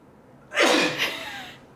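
A single sharp sneeze bursts out indoors in a furnished home, loud and close, then tails off quickly into quiet room tone.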